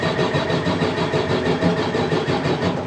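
A farm machine's engine cranks over steadily without catching, a loud, continuous churning starter rhythm with no voices.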